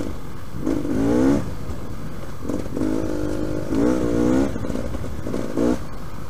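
A Beta Xtrainer dirt bike engine revs and shifts up into fourth gear on a slippery trail ride, its buzzy, surging drone rising and dipping in a few pulses throughout, close to the rider with no talk.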